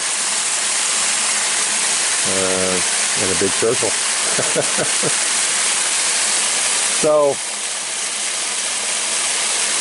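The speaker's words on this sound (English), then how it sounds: "It's definitely breaking the surface of the water. It's circulating the water" A pond aerator churns and splashes the water in a tilapia tank, a constant broadband rush running throughout while someone speaks briefly over it.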